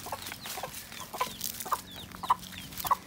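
A hen clucks softly beside her two tiny chicks in a barn, with low repeated clucks and faint high peeps scattered over quiet background noise.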